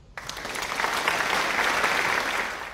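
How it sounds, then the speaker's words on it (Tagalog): A classroom of students applauding themselves, a dense burst of clapping close by that swells quickly and holds steady for a couple of seconds. "bigyan nga ng 3 palakpak ang inyong mga sarili"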